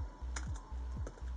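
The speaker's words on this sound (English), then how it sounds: "we're gonna be typing in some commands now" Typing commands on a computer keyboard: a few quiet, close keystrokes tapped at an even pace, with low thumps under each press.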